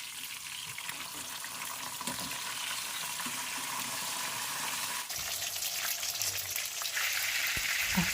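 Salted fish frying in a pan for escabeche produces a steady, dense sizzle and crackle of hot oil, continuous and close, with faint clinks and a few scattered thumps along the way.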